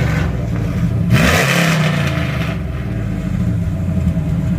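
A cammed Ram truck engine idles with a deep exhaust rumble through an electric exhaust cutout, then revs up sharply once around a second in before settling back to a steady throb.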